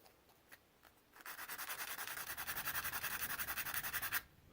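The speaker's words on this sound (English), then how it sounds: "literally sanding down an edge." A few light scrapes, then steady, rapid back-and-forth rubbing of sandpaper on the edge of a wooden ring, close up, continuing for several seconds before stopping abruptly.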